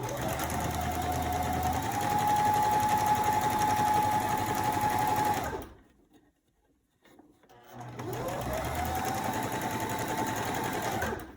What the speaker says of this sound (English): Now that we have this in the sewing machine, what we're going to do is just do a quick straight stitch